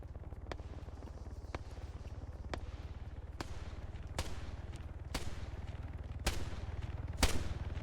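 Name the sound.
gunfire in Arma 3 video game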